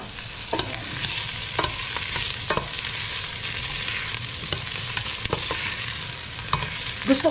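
Chorizo fries with browning garlic and onion in a pan, a steady close sizzle with occasional scraping stirs and light clinks, no talking.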